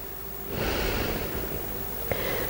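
A steady, audible exhale during a yoga backbend pose, a broad airy breath rising about half a second in and holding for around two seconds, with a faint short click near the end.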